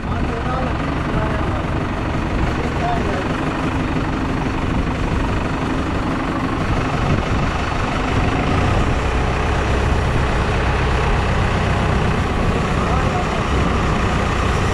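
A tractor engine idles steadily and loudly throughout, a dense low rumble that persists without pause while people talk over it at a farm site where a barn is being built amid earthquake debris clearance.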